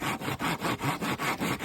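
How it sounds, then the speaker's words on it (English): Hand saw cutting through wooden planks for flooring at an outdoor raised shelter, with steady back-and-forth strokes in a regular rhythm, close and alone. "Right now I'm sawing up these planks."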